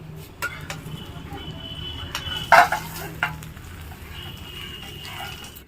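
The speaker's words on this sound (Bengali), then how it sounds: "আমি উল্টে পাল্টে লাল লাল করে ভেজে নিলাম" An egg omelette fries in oil in a pan, giving a steady low sizzle with a few sharp clinks and scrapes from a utensil against the pan.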